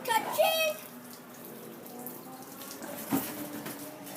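Water rushes from a garden hose in a steady hiss, with a voice and other talk over it near the start.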